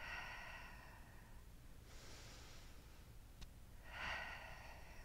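Two deep exhaling breaths during a yoga breathing exercise, each a soft, airy rush about two seconds apart, with quiet room tone between them.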